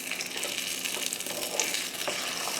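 Beaten egg, poured without onion, fries and puffs up in a hot pan, producing a bright continuous sizzle with small crackling pops, close and moderately loud, with no talking.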